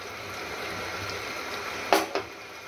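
Fish curry boiling in a pan, giving a steady low bubbling hiss with two brief sharper pops near the end.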